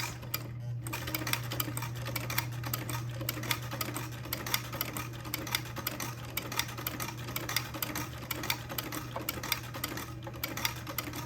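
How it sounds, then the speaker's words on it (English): A domestic sewing machine stitching a buttonhole runs steadily for about eleven seconds, a fast, even, close mechanical whir and patter with a low motor hum underneath and no talking. "now I'll drop my foot and sew the second of the two buttonholes."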